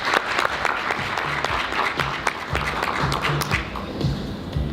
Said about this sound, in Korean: 모두 큰 박수로 맞아주시기 바랍니다